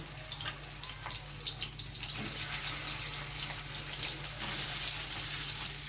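Shrimp fry lightly in hot oil for a palak chingri dish, giving a steady, close, bright sizzle with a low hum underneath and no talking.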